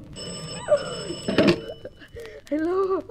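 A telephone bell rings in the radio drama Sorry, Wrong Number, with loud, close bursts broken by a thunk and voice-like sounds.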